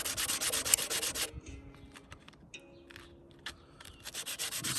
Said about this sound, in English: with the rough sandpaper, you want to keep looking at it because it does take off quite a bit of material each time